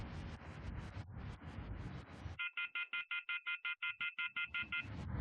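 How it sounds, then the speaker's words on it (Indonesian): An outgoing phone call rings through on a handset, a steady run of repeating electronic ring pulses that follows a stretch of broadband noise and stands alone, fairly close and clear. "Coba telepon si Deden lagi"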